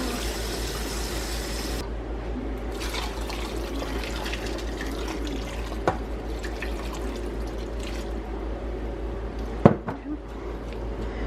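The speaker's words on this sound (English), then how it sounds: "Then we're gonna add enough water to cover everything." Tap water pours into a pot of large baking potatoes for a cream of potato soup, a steady continuous rush with a couple of sharp knocks near the end, close and fairly quiet.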